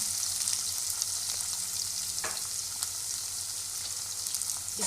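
Chopped onion with ginger and garlic fries in a pan, a steady bright sizzle close by, marked by a single clear scrape of a spoon stirring partway through, with no voices.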